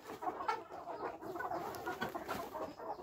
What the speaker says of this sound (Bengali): আমাদের খামারে প্রায় 650-র মতো মুরগি আছে।